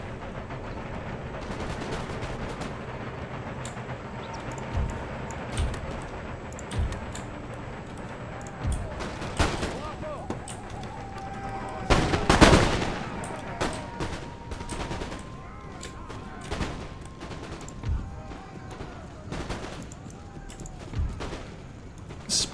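Massed musket volleys crackle and roll across the battlefield in Empire: Total War, with repeated bursts of gunfire and a heavier cluster near the middle, over a constant din of battle.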